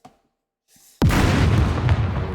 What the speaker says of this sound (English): I hear that explosion, and then I'm good to move a little bit.